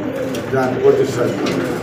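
A pigeon cooing in a loft among birds for sale, soft low rolling coos close by, overlapping with people talking.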